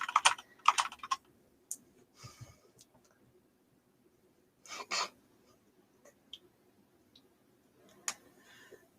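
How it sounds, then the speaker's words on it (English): Scattered clusters of keyboard typing, light clicks arriving in short bursts with quiet gaps between them, fairly close. "Someone's typing."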